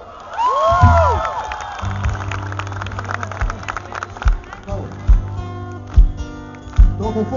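Concert crowd cheering and whistling with rising applause after a singer's shout, a dense roar with rhythmic claps and thumps continuing beneath it.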